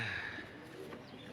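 Lal pari pigeons on a rooftop give a soft, low coo, brief and moderately close against faint background noise.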